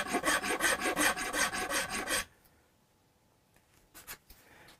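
A rasp files wood on a Hofner Galaxie guitar being restored, giving about two seconds of rapid, loud rhythmic rasping strokes, then near silence with a few faint clicks.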